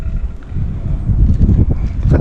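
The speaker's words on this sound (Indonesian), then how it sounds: "angin pun mendadak bertiup cukup kencang bersama dengan kabut dan gerimis" Strong gusting wind buffets the microphone at a mountain camp on Mount Sumbing, arriving with fog and drizzle, a loud, low, rumbling roar that swells and falls throughout, with no talk.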